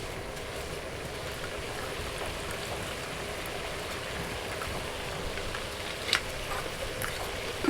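Hot mustard oil in a pan hisses with a steady, dense sizzle after a little water is added, the crackle staying even and close with a couple of brief sharper pops near the end.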